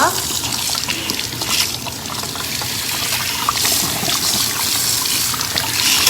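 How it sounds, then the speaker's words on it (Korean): Tap water runs steadily at a salon sink while hair is rinsed after a self down-perm treatment, a continuous close hiss and splash with faint voices in the background. "머리 헹구러 갈게요. 여기 다시 한 곳 먼저 헹궈 볼게요."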